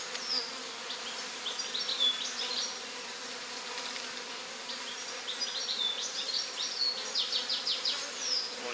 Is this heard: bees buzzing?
yes